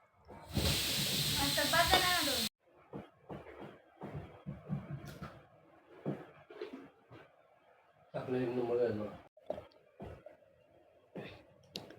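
Chakli, spirals of Diwali snack dough, frying in hot oil: a loud broadband hiss for the first couple of seconds, then someone talks over fainter bursts of sizzling that return briefly later.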